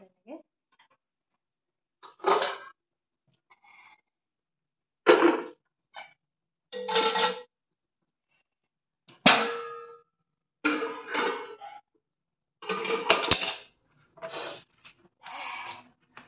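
Dishes and utensils are washed and put away with scattered clangs and clinks of metal and crockery coming in uneven bursts, some sharp and close, with quiet gaps between them.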